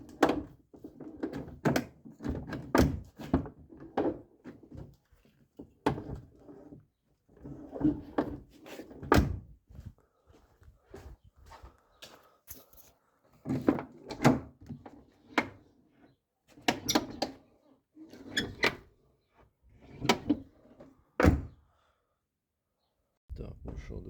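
A Renault Mégane 3 car door, whose door-check limiters had been creaking, is opened and shut several times, giving repeated thunks and latch clicks under someone talking close by.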